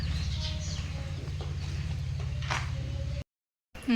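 A hen clucking close by as it is being caught, over a steady low mechanical hum, then a short cutoff into silence before a brief final noise.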